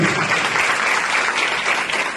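A room full of audience members applauds steadily and loudly for the film's director, a dense, continuous wash of clapping with no pauses.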